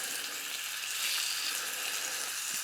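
Bacon grease sizzling and frying in a cast iron pan over moderate heat, a steady close hiss with faint crackles, no talking.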